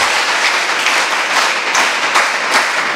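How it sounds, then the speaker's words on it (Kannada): Schoolchildren at a Hebri school programme clap together in a dense, steady burst of applause, loud and close, with no break across the few seconds. "ಚಪ್ಪಾಳೆ ಬರಲಿ."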